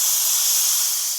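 A pressure cooker cooking beef for biryani releases steam in a loud, continuous high hiss that fades slightly at the end, close up with no voices.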